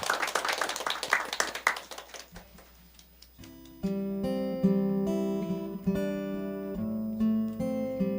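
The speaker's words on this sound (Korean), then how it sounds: "우리 그 하나님께 지금 영광의 박수 한번 돌리겠습니다" A church congregation bursts into dense applause during a Sunday worship service for about two seconds; after a short lull, sustained keyboard or organ music with singing takes over.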